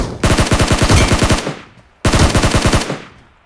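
Two rapid bursts of M249 machine gun fire in the video game Metro Royale, loud, close, sharp rattling rounds, each about a second and a half long with a short gap between.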